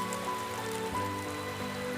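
Rain patters steadily on a surface in an autumn forest, a soft continuous wash of drops with a faint tonal hum beneath, no voices present.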